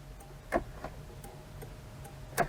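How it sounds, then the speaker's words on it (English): Soft, regular clicking ticks of an Alfa Romeo Alfasud Sprint Veloce's turn indicator repeat at an even pace, quiet and close, with a low hum in the background. "So we've got indicators. Look at that lovely noise."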